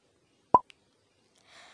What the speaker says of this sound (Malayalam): എണ്ണ നന്നായിട്ട് ചൂടായി വരുമ്പോഴത്തേക്കും നമുക്കിതൊന്ന് ഇട്ട് കൊടുക്കാം.